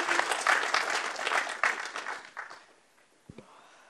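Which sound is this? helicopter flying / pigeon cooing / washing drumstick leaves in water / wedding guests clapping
wedding guests clapping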